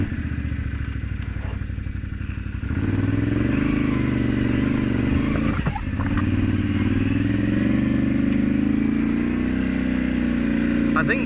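A Can-Am side-by-side's engine drones steadily as it pulls away in forward gear, a loud continuous mid-pitched hum that rises slightly after a few seconds, with faint clatter.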